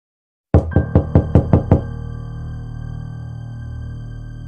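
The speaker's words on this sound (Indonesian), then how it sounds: "Terdengar suara ketukan pintu dari balik kamar itu." Six quick, sharp knocks on a door in a sound effect for a horror story, evenly paced and loud, with a low resonant hum lingering after the last rap.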